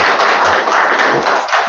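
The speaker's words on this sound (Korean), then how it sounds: "박수 한번 맞아주세요." Lecture audience applauding a speaker's introduction at a seminar, a dense, loud, continuous burst of clapping from a crowd nearby.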